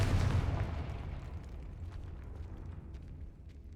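A Confringo fire spell explodes in the Hogwarts Legacy video game, a loud booming blast that starts hard and decays into a long rumbling roar with scattered crackles, with no voices over it.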